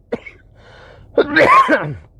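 An elderly man gives a single short cough near the mic, followed by a louder, rougher throaty burst of coughing with a wheezy edge.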